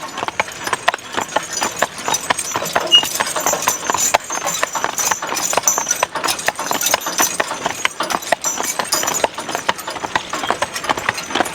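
Draft horses haul round hay bales along a road, their hooves striking in a steady, brisk clip-clop rhythm that carries on throughout, close and fairly loud, along with faint rattles from the wagon.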